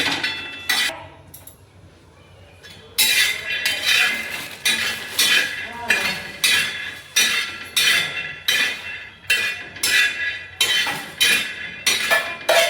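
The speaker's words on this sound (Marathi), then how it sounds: "तर आपलं शेंगदाणे भाजणं चालू आहे फर्स्ट क्लास" Peanuts dry-roasting in a pan for dry methi bhaji, with a rhythmic series of sharp metallic clinks and scrapes as they are tossed and stirred, steady and close, after a brief quieter lull.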